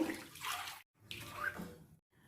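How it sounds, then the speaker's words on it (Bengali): Hot water pours into a pan of spiced curry in two short splashing gushes separated by a brief silence, close and fairly quiet, with no voices. "তিন কাপ গরম জল দেবো"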